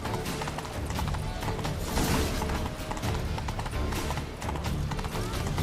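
Horse hooves gallop in The Witcher 3: Blood and Wine, a steady rapid clip-clop running continuously at close range over a busy game soundscape.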